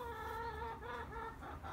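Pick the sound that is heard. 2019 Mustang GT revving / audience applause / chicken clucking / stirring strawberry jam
chicken clucking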